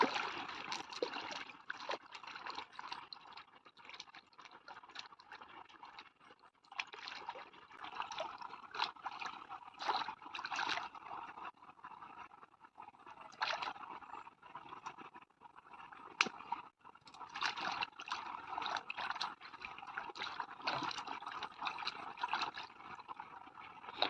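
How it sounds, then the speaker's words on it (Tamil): Water from a motor-pump outlet runs and splashes steadily while freshly pulled tapioca roots are washed in it outdoors on a farm, a continuous close trickle with irregular splashing bursts. "தண்ணி மோட்டர் தண்ணி வருது, கழுவிக்கலாம்."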